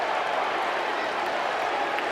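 A baseball stadium crowd at a Mets game applauds in a continuous, even wash of clapping and cheering, heard from a distance with no break.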